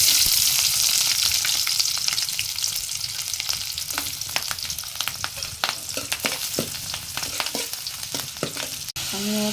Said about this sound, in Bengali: মাছগুলো ভাজা শেষ, এখন আমি দিয়ে দিব পেঁয়াজ কুচি।